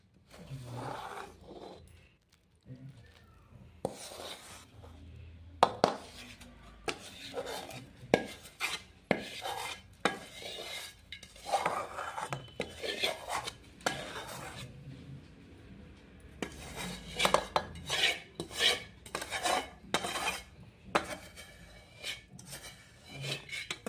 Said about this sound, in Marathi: आपल्याला हे मिश्रण पूर्ण गुळासोबत मिक्स करून घ्यायचंय.